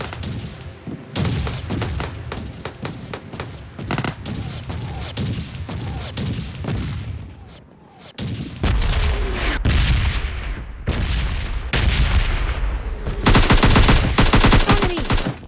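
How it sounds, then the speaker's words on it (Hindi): Rapid bursts of automatic gunfire in the mobile shooter PUBG Mobile Lite, played solo against duos. Loud, dense volleys repeat throughout, with a short lull near the middle and an especially intense, sustained barrage near the end. "मुझे मेन सेंट्रल रोड से भी दो चार फायरिंग की आवाज़ आ रही थी"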